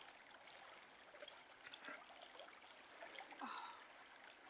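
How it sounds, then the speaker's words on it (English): Insects chirp at night in short, evenly repeated bursts, a steady rhythmic pulse that stays fairly faint against a soft background hiss. "Bugs."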